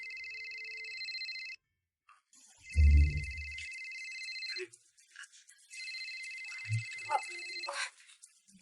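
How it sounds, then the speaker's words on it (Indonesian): Mobile phone ringtone plays in repeated bursts with short gaps, fairly clear indoors, broken by a thump and a few soft sounds of movement. "Kayaknya ada yang telepon."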